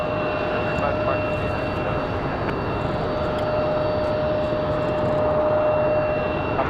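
Airplane departing Raleigh Durham International Airport on a windy day gives a steady, broad engine roar with a faint whine, holding at an even level throughout.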